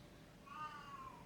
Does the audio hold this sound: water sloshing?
no